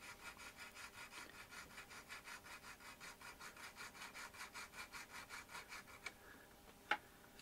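A hand saw cuts through a resin model kit strut in quick, even back-and-forth strokes, close and quiet, ending with a couple of sharp clicks.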